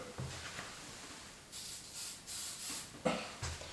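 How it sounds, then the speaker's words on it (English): Several short hissing bursts from an aerosol spray can of layout fluid, close and fairly quiet, separated by brief pauses with faint handling sounds. "I'm going to spray around it."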